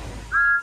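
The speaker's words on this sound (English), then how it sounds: "Whistled Thomas." A model Thomas the Tank Engine, a Hornby or Bachmann toy train, gives one short, steady whistle of about a quarter second that rises clearly above a low background hum.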